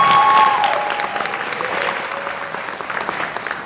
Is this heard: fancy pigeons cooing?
no